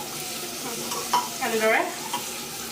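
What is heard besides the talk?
onions frying and being stirred for Assamese pulao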